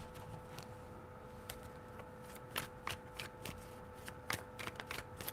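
Tarot cards shuffled by hand during a reading, giving soft, quiet riffling and flicking bursts with a faint steady hum underneath, no voices.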